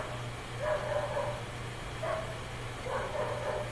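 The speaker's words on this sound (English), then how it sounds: "I hope you can't hear a dog in the background." A dog barks in short bursts somewhere in the background, three separate clusters of yips and barks spread over a few seconds, faint and distant over a steady low room hum.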